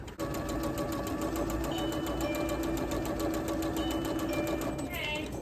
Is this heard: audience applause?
no